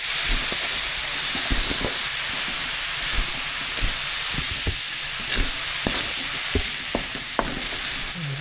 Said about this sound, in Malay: Goreng daun ubi.